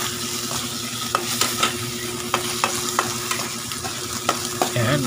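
Ingredients sautéing in a hot pan, a steady sizzle broken by repeated scrapes and taps of a utensil stirring them around, close and fairly loud.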